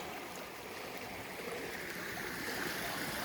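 River water flowing over stones near basaltic rocks at Sacsayhuaman-Quespehuara in Peru, a steady, moderately quiet rushing and trickling that holds evenly throughout with no voices.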